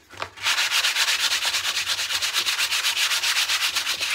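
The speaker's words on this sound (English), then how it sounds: "I'm just sanding it down till it gets smooth, and you will feel the difference." Steady, rapid back-and-forth strokes of 220 grit sandpaper rubbing over canvas, close and loud, with an even rhythm of roughly eight strokes per second and no talking.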